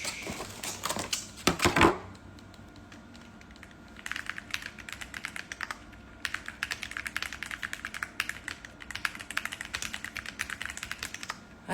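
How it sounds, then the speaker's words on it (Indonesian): Fast, clicky keystrokes rattle on a brand-new computer keyboard, fairly close and moderately loud, starting after a brief rustle and continuing in irregular bursts with no talking. "gue sebagai manusia suka banget dengan suara ketikan keyboard"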